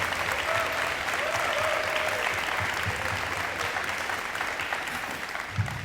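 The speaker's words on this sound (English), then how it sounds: "Let's give them a round of applause." A crowd in attendance at a high school letter-of-intent signing ceremony for two athletes claps in a long, loud, even round of applause, with a faint thump near the end.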